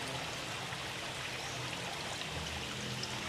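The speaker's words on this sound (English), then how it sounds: "So you're allowed to have these drip of water, stream of drip of water just coming down, and then it's almost like a miniature waterfall." Water drips and trickles steadily down stone structures in an aquarium, forming a miniature waterfall. The sound is a continuous, even splashing hiss with no talk over it.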